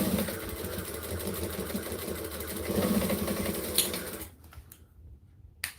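Sewing machine stitching along the top of folded fabric for a pocket, a steady rapid mechanical whir that runs for about four seconds, then stops, leaving a near-silent room with a couple of faint clicks.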